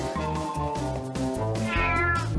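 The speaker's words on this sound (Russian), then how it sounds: "О нет, кот очнулся." A cat meows repeatedly in a steady run of close, loud, tonal calls, alone with no talking over it.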